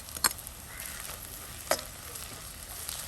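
Ginger garlic paste, five green chilies and softened onions fry in a pan with a soft, steady sizzle, punctuated by two sharp stirring clatters of a spoon.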